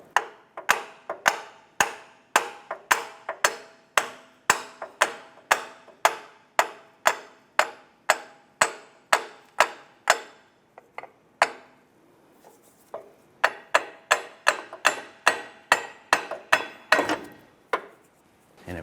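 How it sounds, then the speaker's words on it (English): A hammer strikes the inner CV axle of a 2007–2012 Nissan Versa in a rapid, steady run of sharp metallic blows close by, pausing briefly before another quick burst of hits. "I'm going to use my hammer and I'm going to hit the inner CV axle and work this whole axle out."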